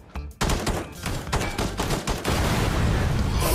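Loud, close blasts of an explosion and gunfire in PUBG crackle in rapid bursts, then settle into a sustained roaring rumble with no talk over it.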